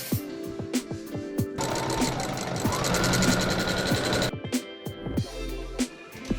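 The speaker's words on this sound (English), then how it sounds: "Take this to your machine and sew all the way around." Sewing machine stitching around pink fuzzy stocking fabric, a loud steady mechanical whir for a few seconds, framed by softer clicks and handling noises before and after.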